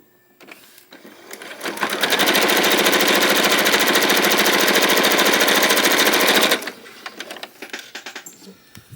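A sewing machine runs at speed while stitching a quilt, a loud close rapid chattering drone lasting several seconds, with brief start-up and stopping clicks and rustles on either side.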